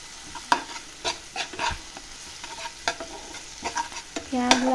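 Onions frying in a pan for aloo paratha filling, stirred with a utensil: a steady sizzle runs under repeated scraping and clinking strokes against the pan, close and moderately loud, with no talking.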